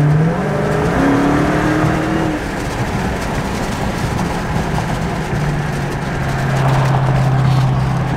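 Engine of a heavily lifted truck with a 12-inch lift, pulling hard at quarter throttle, a loud steady roar with rising and falling pitch and continuous road noise throughout, no voices.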